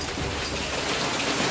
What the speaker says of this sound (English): This pup has discovered the joy of catching hailstones straight from the sky.